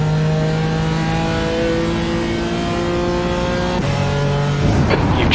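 BMW GT4 race car engine in the iRacing sim, a steady high-revving drone with strong harmonics that drops pitch briefly near the end as it shifts and climbs again, loud and continuous with no talk.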